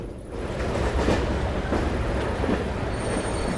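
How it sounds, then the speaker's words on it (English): A train approaches in an Age of Empires 3 video game cutscene, a dense, loud rumble of rolling wheels and rail noise that stays steady throughout with no talk. "but the train's coming"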